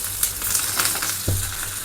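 Curry leaves dropped into hot oil with cumin, asafoetida and sliced chillies for a tempering, giving a close, even sizzle with scattered crackles and a brief clunk partway through, no voices.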